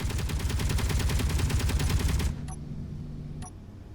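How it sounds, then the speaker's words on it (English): Turrets in the Space Engineers video game fire in a fast, dense volley at drifting wreckage, the loud rattling stream cutting off abruptly and leaving a low hum with a couple of faint clicks. "I think it's just wreckage that the turrets are shooting at"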